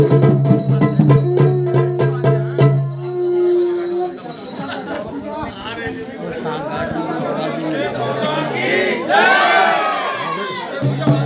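Dense crowd on the last day of the Chaitol fair in Pithoragarh, 2022, a loud swirl of chatter and shouting voices, with steady musical tones early on fading into a busy wash of people and a sharper cry near the end.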